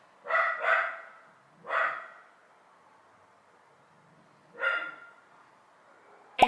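A dog barks in four separate bursts, two close together at the start, then one alone and another after a long pause, fairly near with quiet gaps between, followed by a brief sharp noise at the very end.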